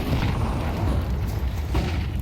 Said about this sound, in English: A lot of early nades here.